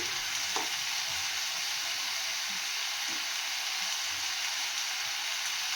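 Fish sizzles and spits in hot oil in a pan, a steady, close frying hiss that holds evenly from start to finish, with faint stirring knocks now and then and no voices.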